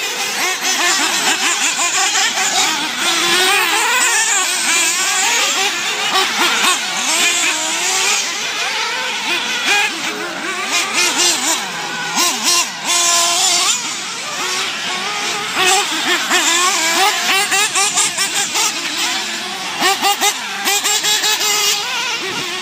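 Several 1/8 scale nitro RC truggies race in a final, their small high-revving engines whining and buzzing continuously, rising and falling as they accelerate and pass, loud and near throughout.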